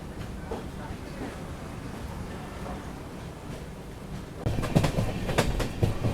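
Inside the Dibrugarh Rajdhani Express in second-class AC as it pulls out of Kokrajhar station, a steady rumble of the moving coach turns into louder, rhythmic wheel clatter over the track joints partway through.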